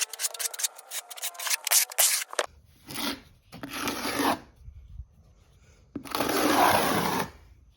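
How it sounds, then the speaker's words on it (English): Trowel scraping a thin line of mortar over a crack during a tiling renovation, close rasping strokes in short bursts separated by quiet pauses, with a longer scrape near the end. "I'm gonna take some of my mortar, and I'm just gonna do a thin line around this crack"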